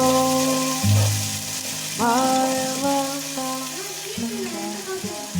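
Ginger garlic paste sizzling in a pan while being stirred in, a bright steady fry with scraping mixing sounds, under a faint tonal background hum.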